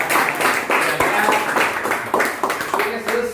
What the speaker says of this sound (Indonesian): Tepuk tangan buat tim kita.